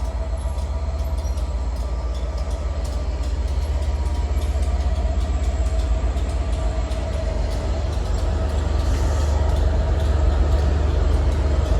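A British Rail Class 67 diesel locomotive with a train at Manchester Piccadilly station, a steady loud engine rumble and rolling rail noise continuing throughout, with faint squeals and no speech.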